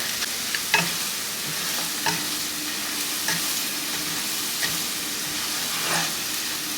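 Onions and flour roux stirred in a frying pan for a Salisbury steak gravy, with a steady sizzle under periodic scrapes of the spoon against the pan, moderately loud and close, no talking.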